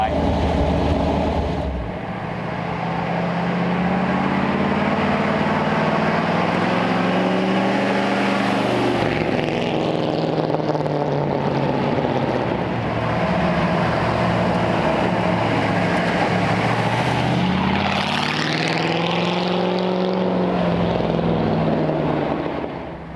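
A 1939 Ford hot rod with a carbureted engine drives by, its engine note rising and falling through two passes with rumbling exhaust, loud and continuous, with people talking faintly underneath.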